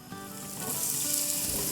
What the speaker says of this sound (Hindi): अब हम यहाँ बारीक बारीक कटी हुई प्याज डालेंगे जो कि एक लार्ज है।